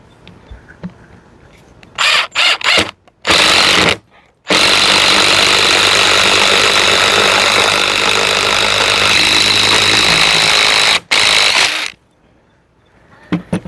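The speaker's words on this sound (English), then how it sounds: "we're going to hook this to our drill" A power drill with a spade bit bores loudly through wood in a sustained, harsh grinding burst after a few short starts, close up and uninterrupted.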